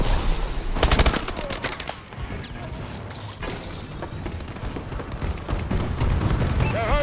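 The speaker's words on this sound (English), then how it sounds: "Friendly bombing run incoming." Bombing run explosions in the video game Call of Duty: Advanced Warfare: a rapid cluster of heavy blasts and gunfire bursts, dense and loud, followed by continuing rumbling battle noise.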